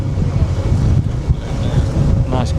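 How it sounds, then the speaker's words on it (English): Strong wind buffeting the microphone on a Sydney Harbour ferry, a loud continuous low roar with gusts and engine and water noise underneath, and a brief faint whistle near the end. "Now it is super windy on the ferry today."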